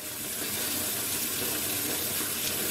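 Rushing water pours steadily into a container where pet rats are swimming, a dense, continuous hiss and splash with no pauses, close and constant throughout.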